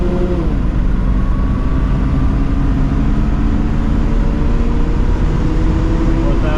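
A 1970 Mercedes-Benz 280SE 3.5 Cabriolet engine drones loudly and steadily with a rising rev after a downshift, a dense continuous roar heard from inside the car with a voice faintly underneath.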